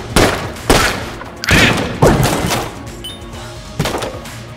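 Gunfire from the video game Enter the Gungeon, using a gun that pierces enemies, lands as loud, punchy bursts of shots every second or so with booming tails. There is no talking.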